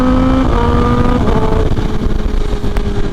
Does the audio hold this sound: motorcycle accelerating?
yes